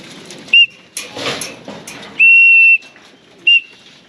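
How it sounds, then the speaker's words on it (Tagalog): Three sharp, piercing whistle blasts at a pigeon race, a short one, a longer sustained blast, then another short one, sounding loud and close over faint outdoor background noise. "So magkaiba yung pito na ginagamit ko sa south tsaka dun sa mga pang north."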